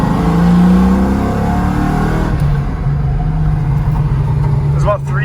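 A Ford Mustang GT with wheel spacers pulls uphill in second gear on a freezing day, its engine a steady loud drone that rises then settles, with someone talking over it throughout.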